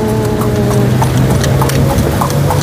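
Horse hooves clip-clop steadily on pavement as a horse-drawn delman carriage moves through Malioboro, Yogyakarta, on a quiet rainy night, the regular rhythmic clopping continuous over a constant low rumble of street noise.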